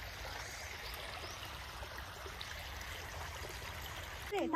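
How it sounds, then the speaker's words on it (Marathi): A cold, shallow outdoor stream flowing steadily, a soft continuous burble and trickle heard at close range, faint and even throughout, ending with a brief louder rustle. "एकदम असं वाहत पाणी आहे"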